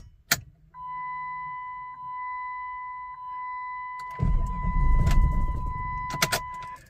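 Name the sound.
1998 Jeep Grand Cherokee 5.9 engine cranking and firing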